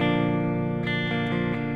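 A 2013 Gibson Les Paul Junior with Burstbucker Pro II pickups plays through a 1968 Fender Custom Deluxe Reverb amp alone, a sustained chord ringing with a few picked notes over it, no pedals in the chain.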